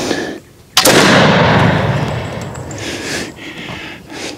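A black powder muzzleloader loaded with six .310 round balls on a double patch fires one loud, close shot after a brief quiet pause, the blast trailing off into a long rumbling echo.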